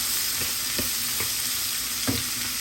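Pieces of hot-water dough for leek-filled mantija fry in hot oil in a pan, giving a steady close sizzle with a few brief crackling pops throughout.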